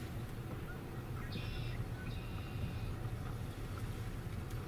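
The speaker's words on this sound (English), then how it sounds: "So I continue to hear the marsh wrens," Faint bird calls, marsh wren trills and blackbird notes, sound over a steady low rumble of engine or wind noise.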